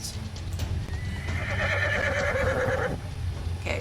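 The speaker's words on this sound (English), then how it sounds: "spooks the mare into a frenzied gallop out of the river and into, of all things, the woods." A horse in a video game whinnies loudly, then hooves clatter as the mare gallops off, out of a river and into woods, fairly close and with no talking.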